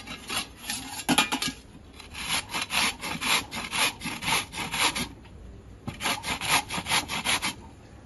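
Peeled carrots are grated by hand for gajar halwa, producing steady rhythmic rasping strokes up close, about two per second, with a brief pause midway and no talk.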